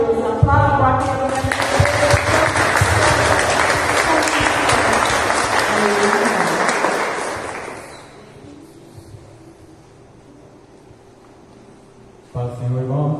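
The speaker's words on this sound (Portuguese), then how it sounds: "Aplauda aquele" A church congregation at a Christian worship service breaks into loud, sustained applause mixed with voices for several seconds, then it dies away into near quiet before a voice begins speaking.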